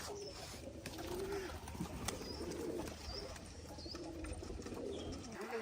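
Pigeons coo softly at a pigeon farm, with repeated low cooing and occasional faint chirps against a steady background hiss.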